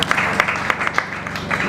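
Wedding guests clapping, a short burst of scattered, fairly close handclaps with some murmuring beneath.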